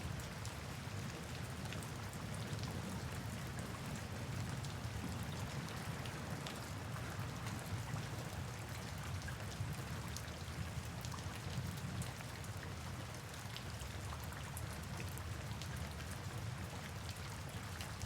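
Steady rain falls through a dark night, a dense even hiss of drops spattering on surfaces with no break or change across the whole stretch.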